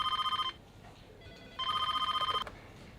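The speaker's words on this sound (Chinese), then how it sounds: "电话在响" A telephone bell rings in two loud electronic bursts, each a rapid trilling ring, separated by a short pause in an office, with faint room noise between rings and no talking.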